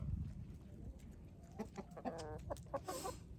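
Chickens in breeding pens cluck in short bursts close by, a few busy, choppy calls over a low background rumble with no talking.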